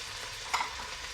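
Green peppers and onion go into hot bacon fat in a pan, giving a soft steady sizzle with one brief louder crackle or scrape midway, close and without talk.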